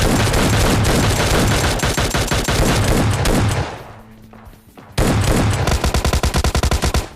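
Rapid bursts of Mini 14 rifle fire in a shooter video game, loud and close, with a short quieter lull midway before a fresh volley of quick repeated shots.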